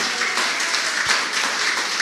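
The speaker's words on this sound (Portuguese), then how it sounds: "aplaudam o Senhor" A church congregation applauding during a Portuguese worship service, a steady wash of many hands clapping at moderate distance that fills the whole short moment without a break.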